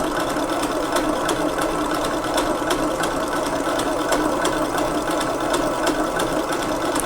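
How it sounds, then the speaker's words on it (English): An electric mixer whisks an egg mixture for madeleine batter, giving a loud, steady whirring buzz with a faint rapid ticking that runs without a break and with no talking. "We are actually whisking to create air into the eggs mixture now, so that the cake after baking will be soft and fluffy."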